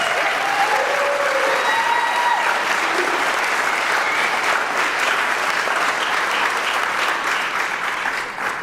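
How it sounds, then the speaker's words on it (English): A wedding reception crowd gives a sustained round of applause for a toast, loud and steady throughout with a few whoops and a faint voice above it, tapering off only at the very end. "Big round of applause for Devin"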